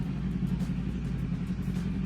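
A motorcycle engine idles and runs steadily during a riding lesson, a close, even mid-pitched rumble with slight pulsing and no talk over it.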